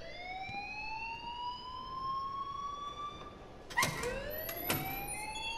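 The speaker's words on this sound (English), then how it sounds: "please turn off that alarm since that's your job" Wailing alarm in the video game Life Is Strange, a rising and falling siren-like tone heard fairly faintly throughout, with a couple of sharp clicks or thuds near the end.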